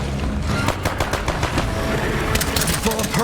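Rapid pistol gunfire in the zombie survival video game State of Decay 2, dense repeated shots in quick succession throughout, with players talking under it.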